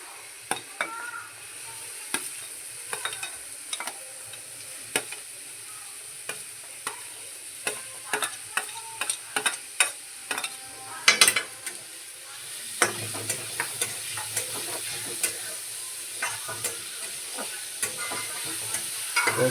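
Onions fry in a pan for Mumbai-style pav bhaji, a quiet continuous sizzle punctuated by frequent sharp clicks of a spatula stirring against the pan, the frying growing a little louder partway through.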